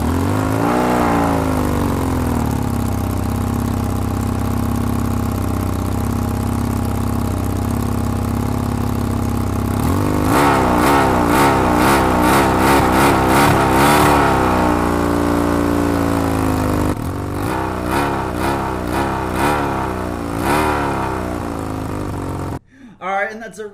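Yamaha XJ600 motorcycle engine running on full choke with no throttle after a carburetor clean, idling steadily close by, then climbing into higher revs and settling again with some rough pulsing, ending abruptly.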